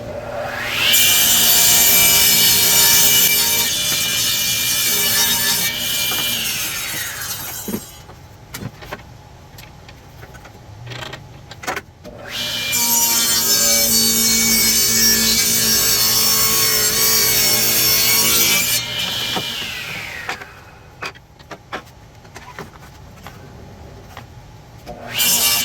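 Power saw trimming wood on an antique table, two long, loud, steady whining cuts separated by a quieter pause with small knocks and handling sounds.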